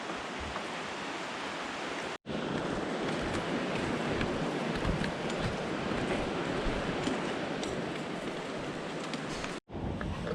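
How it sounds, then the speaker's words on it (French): A river rushes steadily beside a mountain hiking path on the Tour du Mont Blanc, its broad continuous roar close and loud, briefly cut twice. "tu entends la rivière"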